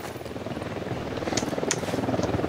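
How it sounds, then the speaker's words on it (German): Helicopter in the video game Ghost Recon Wildlands, a loud, steady rotor thump with a throbbing whine filling the scene, close and continuous without any talking. "Haben wir jetzt einen Hubschrauber an der Backe?"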